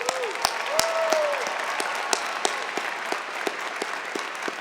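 Sustained crowd applause fills a commencement ceremony hall, a dense steady wash of many hands with a few sharper claps standing out, moderately loud, while a voice briefly rises over it near the start.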